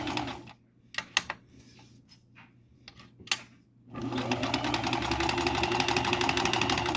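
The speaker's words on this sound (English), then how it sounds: "then I'll show you how it's sewing" A Kenmore 158.1345 sewing machine gives a few scattered clicks and taps while it is set up, then starts sewing with a steady, fast, loud mechanical whir that runs to the end.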